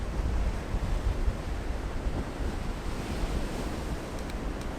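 Big ocean waves crash onto the shore at Bundjalung National Park, a steady rumbling surf with broad low wash and some wind buffeting, moderately loud with no voices.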